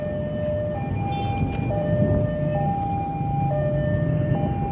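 An Indonesian KRL commuter electric train passes with a tonal electric whine that steps between pitches over a low rolling rumble. It stays steady and moderately loud, with no talking.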